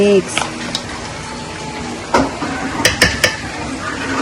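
Tofu mixture being stirred in a basin: soft scraping and wet churning with a few sharp clinks against the container, while voices talk nearby.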